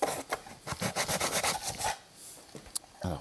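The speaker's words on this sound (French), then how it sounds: "Alors on va affiner le ponçage pour récupérer les petits millimètres qui sont en trop." Wood being hand-sanded to take off the last few excess millimetres, a close, steady run of rasping rubbing strokes that pauses briefly near the end before resuming.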